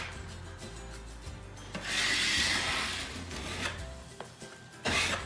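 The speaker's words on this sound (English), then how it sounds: "And I'm just jamming it into any seam or gap that we have. And then I'll scrape it smooth." Epoxy filler being scraped smooth into kitchen countertop seams, a close rasping scrape that swells into longer strokes with brief gaps between passes.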